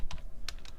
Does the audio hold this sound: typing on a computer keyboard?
yes